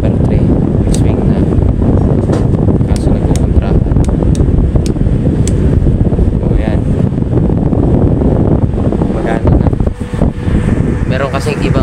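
A National electric box fan runs on its swing setting, with a steady, loud whooshing airflow and occasional clicks. Someone talks over it in places.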